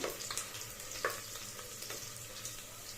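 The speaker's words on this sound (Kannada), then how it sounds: "ಒಂದು ಲೈಟ್ ಬ್ರೌನ್ ಗೋಲ್ಡ್ ಬ್ರೌನ್ ಆಗೋವರೆಗೂ ಫ್ರೈ ಮಾಡ್ಕೊಳ್ಳಿ" Onion frying in oil inside a pressure cooker until golden brown, a soft, steady sizzle with occasional light stirring scrapes, close and fairly quiet, with no talking.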